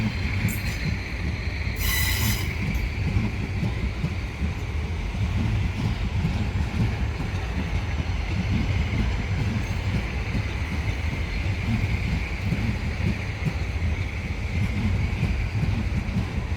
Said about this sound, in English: Departing platform 7 we have a pair of possibly a 3 set of class 450s working service to London Waterloo